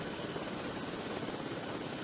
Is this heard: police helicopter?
yes